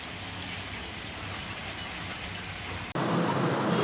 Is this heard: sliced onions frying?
yes